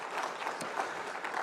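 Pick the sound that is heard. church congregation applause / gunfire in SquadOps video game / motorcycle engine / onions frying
church congregation applause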